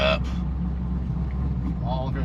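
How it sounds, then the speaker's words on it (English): An Edelbrock supercharged Camaro SS engine idles after warming up, giving a steady low, loud rumble throughout, with brief speech over it. "we got the engine warmed up"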